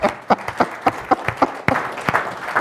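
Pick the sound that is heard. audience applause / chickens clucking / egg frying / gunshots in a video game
audience applause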